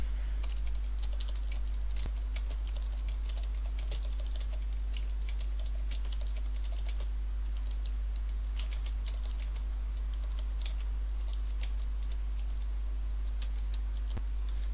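Steady, rapid typing on a computer keyboard during a touch-typing practice exercise, with continuous light key clicks over a constant low hum throughout.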